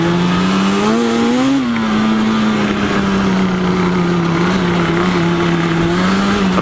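A Yamaha Banshee 350 two-stroke engine is held at high revs while riding, a loud, close, buzzing drone with a brief climb in pitch early on before it settles into a steady, slightly wavering whine.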